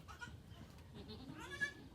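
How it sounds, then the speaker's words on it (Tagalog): Newborn triplet goat kids on a farm give a few thin, faint bleats over about two seconds, with one slightly stronger cry near the end. "meron tayong kambing na umanak ng tatlo"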